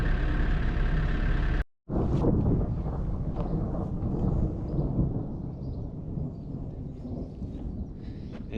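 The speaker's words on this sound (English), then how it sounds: "Not everybody likes thunder and lightning." Thunder from an approaching storm rolls loud and low, one deep rumble breaking after a brief dropout and then trailing off into a long, grumbling fade.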